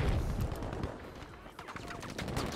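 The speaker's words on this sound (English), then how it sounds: "20 people shooting" Dense gunfire from many players shooting at once in an online shooter, a continuous loud clatter of overlapping shots with a brief dip midway, with voices faintly mixed underneath.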